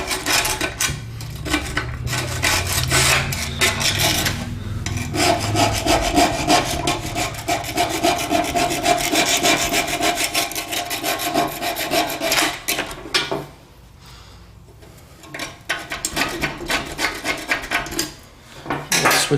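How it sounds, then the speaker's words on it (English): A screwdriver scrapes old silicone gasket out of a stove door groove in repeated rasping strokes, loud and close, with short pauses between bursts and no talking. "we just want to do our best to scrape out as much of that old silicone as"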